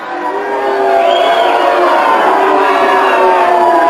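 A large wrestling arena crowd at a St. Louis match boos a contender, a sustained loud roar of voices building and holding steady with a few whistles rising above it.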